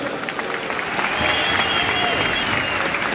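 An audience applauds footballer Felix Platte before a match against SV Darmstadt 98, a dense, steady clapping that swells after the first second and holds loud to the end.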